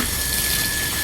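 Water pours steadily into a potted plant's soil, a continuous broadband splash and trickle that stays loud and even throughout, with no talking.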